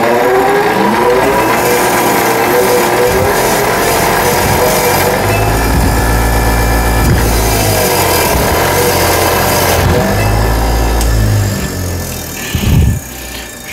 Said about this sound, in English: let's take and clean this weld up on the bench grinder here.